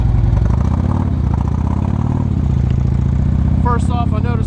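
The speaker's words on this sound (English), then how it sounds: "This GoPro camera doesn't pick up the engine noise very well." A 2011 Harley-Davidson Electra Glide Ultra Limited motorcycle engine drones low and steady while riding, partly masked by wind and a voice talking over it.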